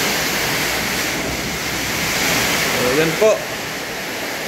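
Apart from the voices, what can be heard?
heavy typhoon rain and wind during Typhoon Uwan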